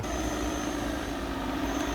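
An agricultural spraying drone returns over a field to land, its rotors giving a steady, loud droning buzz with a constant pitched whine throughout.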